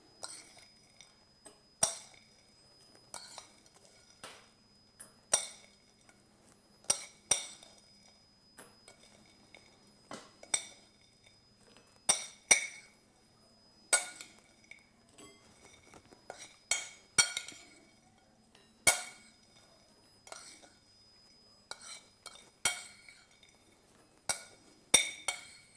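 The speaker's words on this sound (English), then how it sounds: "I've then got 4 little dishes, and all we're going to do, spoon some into each." A spoon clinks and taps repeatedly against four little dishes while buttered biscuit crumb base is spooned into them, the clear close strikes coming at an irregular pace over a quiet background.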